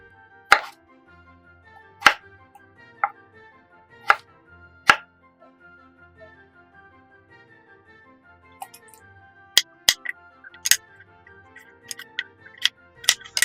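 A knife cuts a potato into small cubes on a board, making sharp, isolated taps at irregular intervals, a few sparse strikes followed by a quicker cluster, close and quiet between cuts.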